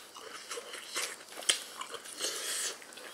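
Someone bites into a crisp pan-fried pollack roe mayo dumpling, giving faint close crunches and soft chewing in an irregular rhythm, with no talking.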